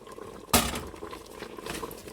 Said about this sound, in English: It's actually boiling